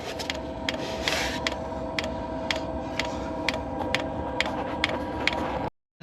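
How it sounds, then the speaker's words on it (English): A diesel heater runs with a steady hum while its fuel pump ticks at a regular pace, about twice per second, close and moderately quiet, ending abruptly. "Start to pump the diesel through now, and that's how quiet it is."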